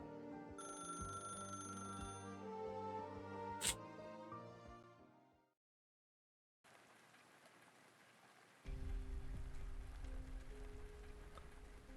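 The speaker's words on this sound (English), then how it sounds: "even though it's raining" Rain falls in the game Arknights, a dense hiss that starts after a ringing tonal passage and short silence, then thickens with a low rumble as it continues steadily.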